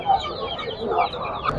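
Chickens and roosters cluck and squawk in a busy bird market in Peshawar, with overlapping calls close by over a murmur of crowd noise.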